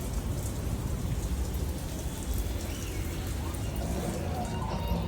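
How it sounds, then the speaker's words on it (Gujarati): Steady rain falling in Vadodara during daytime, a continuous dense patter and hiss of drops on surfaces, even and unbroken throughout. "જુઓ રીમઝીમ રીમઝીમ રીમઝીમ મસ્ત વરસાદ પડી રહ્યો છે"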